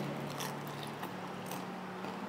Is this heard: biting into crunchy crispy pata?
yes